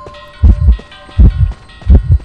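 Three loud, deep double-thump heartbeats pulse at an even pace over a faint hum in the Identity V video game, each lub-dub close and heavy with quiet gaps between.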